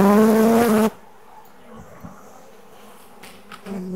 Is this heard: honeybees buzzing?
yes